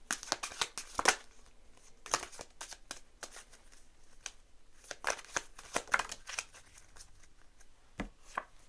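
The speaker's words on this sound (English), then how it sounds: "And then we'll pull oracle cards." Oracle cards are shuffled by hand in a quiet room, giving sharp riffling bursts and scattered crisp flicks that come in uneven clusters across several seconds, faint and close with no talking over them.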